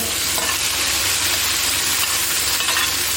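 Ginger, garlic, pickled chili and beef stir-frying in a wok, a loud dense continuous sizzle with a few faint metallic clinks of the spatula, close up and without speech.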